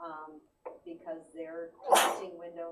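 A single loud sneeze bursts out during a board meeting, cutting sharply across steady talk, with people speaking before and after it.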